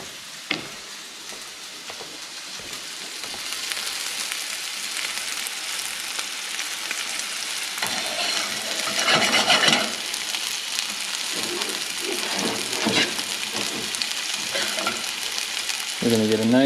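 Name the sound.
steak searing and sizzling in butter in a pan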